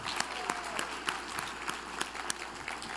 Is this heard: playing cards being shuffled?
no